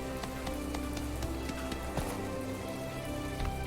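Steady rain falling in the video game My Time at Portia, a continuous patter of drops on surfaces with occasional sharper taps, even in level, with no talking.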